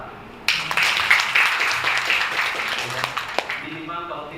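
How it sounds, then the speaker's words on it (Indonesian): Seminar audience at a cultural event starts clapping abruptly and keeps up steady, moderately loud applause in a hall, then it fades out as talk resumes near the end. "Boleh tepuk tangan."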